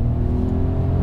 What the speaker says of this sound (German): Wenn ich jetzt hier Gas gebe, dann merke ich, dass der Motor arbeitet